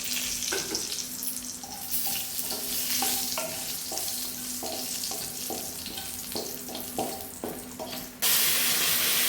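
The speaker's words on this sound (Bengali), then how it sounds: "হালকা দিয়ে দিলাম একটু জিরে ফোড়ন, আর 2টো শুকনো লঙ্কা দেবো" Cumin seeds and two dry red chillies tempering in hot oil crackle and sizzle up close in a run of quick pops, ending in a louder burst of hissing.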